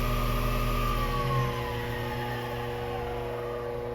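An experimental air engine with an eccentric drive runs steadily at 2200 RPM, giving a close, continuous, even mechanical hum with a faint whine on top.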